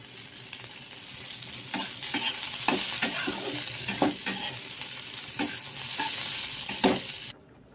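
Cauliflower fries in a pan while being stirred, a steady close sizzle punctuated by regular scraping strokes of the spatula, roughly one every half second, ending abruptly.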